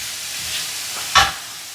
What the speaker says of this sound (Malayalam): നല്ല രീതിയിൽ ഒന്ന് സോട്ട് ചെയ്തെടുക്കണം.